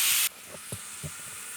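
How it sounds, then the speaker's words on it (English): A loud burst of frying sizzle at the start drops to a soft, steady hiss with a few faint pops and crackles. "we'll continue frying them until they've just started to brown"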